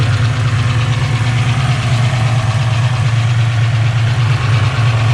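A turbocharged Ford Mustang Foxbody engine idles with a header leak, giving a loud, close, steady low rumble with a slightly uneven ticking pulse throughout and no voices.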